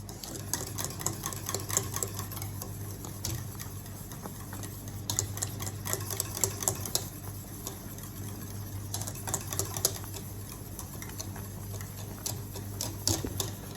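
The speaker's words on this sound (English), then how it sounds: "Keep stirring." Boiling lemon tart filling is stirred in a pot on the stove, repeated quick scraping and tapping strokes in a steady rhythm over a low bubbling hum, close and fairly quiet.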